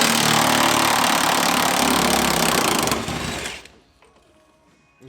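Large impact wrench removing bolts from a Chevy truck bed, a loud close continuous hammering rattle that winds down and stops near the end, followed by quiet.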